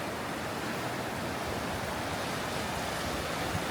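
Rushing water of the Nantahala River, a rafting river, fills the scene with a steady, dense broadband roar and no voices.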